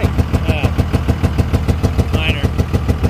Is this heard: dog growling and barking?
no